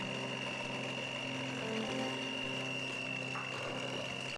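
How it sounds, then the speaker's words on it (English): Electric hand mixer beating cake batter for an apple cake, a steady motor whine running continuously and fairly close throughout with no talk. "I'm going to use a hand mixer to combine everything."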